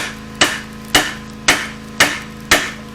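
Brass punch hammered onto a water pump seal during a D4 dozer pump rebuild: five sharp metallic strikes at an even pace, about half a second apart, close and loud with brief ringing after each.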